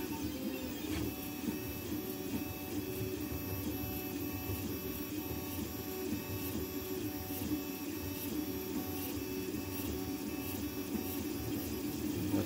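A 3D printer printing a large support part runs continuously up close, a steady whirring of stepper motors with tonal whines and faint ticking, alone with no voices.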